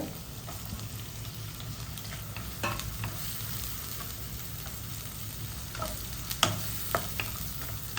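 Tomatoes fry with quail masala in a kadai, a soft steady sizzle under occasional spoon scrapes and stirring clatter, close and fairly quiet with no talking.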